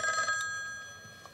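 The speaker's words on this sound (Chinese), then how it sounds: "于大少爷，我接个电话。" Telephone bell ringing in an old-fashioned double-tone burst, loud at first then decaying into a fading ring, heard alone with no talk.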